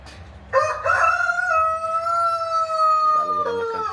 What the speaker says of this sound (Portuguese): Brama cantando bastante.